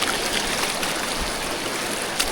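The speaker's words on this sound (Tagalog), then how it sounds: "pang ilang ilog na to na tinawid namin" A river crossed on a mountain hike on the Laiban trilogy trail rushes steadily, a continuous broadband wash of flowing water heard up close with no voices.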